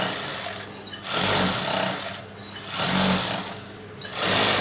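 A sewing machine stitching a patchwork blouse runs in loud, close bursts of rapid mechanical whirring, three stretches of stitching separated by short quieter pauses, with no talk.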